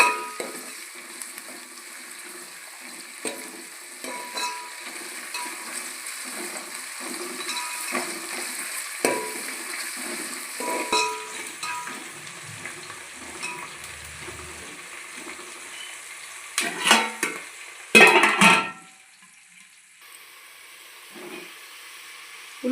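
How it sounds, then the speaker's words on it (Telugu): Onions fry in a pan for chicken pulao with a soft, steady sizzle and occasional stirring scrapes, ending in a brief louder clatter before the sizzle fades. "అయితే బ్రౌన్ కలర్ వచ్చేంత వరకు వేయించుకోవాలండి"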